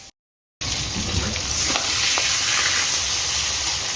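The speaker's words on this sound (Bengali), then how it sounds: "মাছ ভাজা বসিয়ে এসছি, চলো।" Fish frying in a pan, a steady close sizzle of hot oil that starts abruptly after a short silence and continues evenly with occasional small crackles, no talk.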